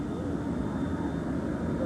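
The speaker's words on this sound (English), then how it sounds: "Plane just taxiing up after landing about 5 minutes ago." A military airplane taxiing on the ground shortly after landing, heard as a steady, moderately loud engine rumble with a faint high whine throughout, with no clear speech over it.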